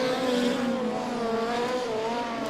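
Midget race cars at Lismore Speedway roar together in a close, continuous pack, with a steady high-pitched engine drone and shifting harmonics for the whole stretch and no voices over it.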